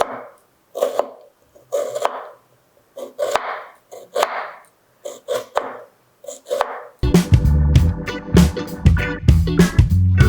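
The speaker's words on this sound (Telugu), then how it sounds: "అందాక ఉల్లిపాయ పచ్చిమిరపకాయలు కోసుకుంటా." Onion and green chillies being chopped with a knife on a board in a home kitchen, a series of crisp, close knocks in uneven bursts, followed by louder clattering and sizzling-like kitchen noise toward the end.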